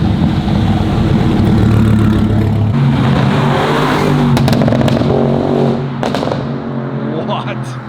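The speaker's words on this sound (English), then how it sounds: "that's gotta be a twin turbo Viper. Damn, that thing sounded sick, right?" A twin-turbo Viper roars past on a street near Rodeo Drive, a loud close engine sweep that swells and fades amid crowd noise, with people talking and shouting over it.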